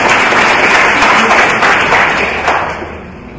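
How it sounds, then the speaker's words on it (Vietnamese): A church congregation applauds in thanks during a Vietnamese Protestant sermon, a dense, steady wash of clapping that runs loud throughout and fades slightly toward the end. "Hãy vỗ tay cảm tạ."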